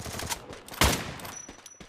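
Gunfire in the Free Fire video game comes as a rapid burst of sharp shots, one loud crack standing out near the middle among quicker, fainter pops.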